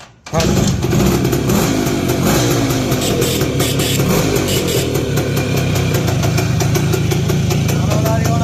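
A vehicle engine runs close by at a loud, steady idle throughout, a constant rumbling drone with voices talking over it.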